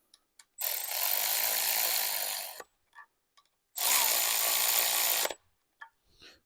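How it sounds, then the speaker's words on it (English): A power tool drives bolts into the front cover of a 6.0 Powerstroke diesel engine in two loud, steady bursts of about two seconds each, close up. Brief clicks and handling noises fall between and after the bursts. "You basically just thread the bolts in, and don't gotta go crazy with these."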